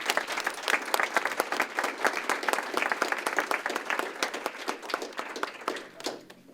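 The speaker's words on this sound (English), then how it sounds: "give a round of applause to her" An audience at a newsroom celebration applauds a journalist with dense, steady hand clapping that stays even throughout and fades slightly toward the end.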